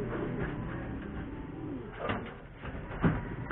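Racing pigeons arriving from a training flight in San Jose, Nueva Ecija coo in low, throaty murmurs close by, with soft fluttering and rustling around them.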